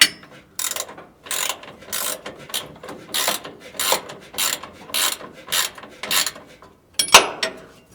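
Steering bolts on a 1946 Chevy truck being tightened with a hand ratchet wrench, a series of loud rhythmic clicking bursts repeating in quick strokes, close up and alone.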